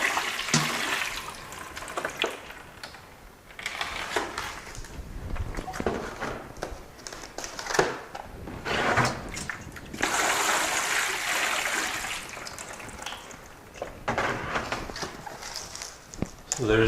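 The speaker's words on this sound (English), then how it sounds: "there's the bottom watering of our radish and our broccoli" Water pours and trickles into microgreen trays of radish and broccoli for bottom watering, a steady splashing flow with some footsteps and handling sounds in between.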